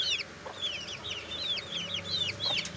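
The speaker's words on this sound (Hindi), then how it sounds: "ये देखें जी, ये भी मुर्गा है, ये मुर्गा है मुर्गा" Young chickens around a month old, kept in a fan-cooled indoor pen, give repeated short clucking and chirping calls close by against a steady low hum from the fan.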